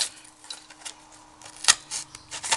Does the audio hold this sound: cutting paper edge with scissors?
yes